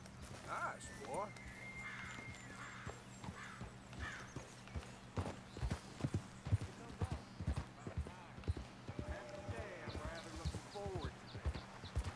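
A horse's hooves clip-clop in a steady walking rhythm on a trail in the Western game Red Dead Redemption 2, fairly close and continuous, with occasional snorts and people talking over it.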